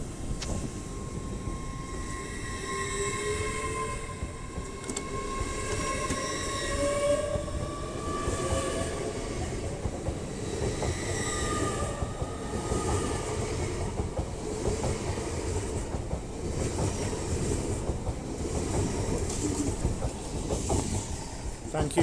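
A passing Class 800 train at Doncaster on the East Coast Main Line sounds its two-tone horn, steady held tones over loud continuous rail rumble and wagon noise throughout.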